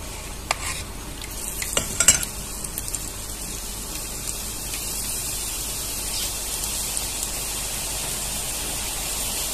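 Gram flour batter drops for motichoor laddu boondi fry in hot oil, a soft, even, fairly quiet bubbling hiss throughout, with a few faint clinks and taps near the start.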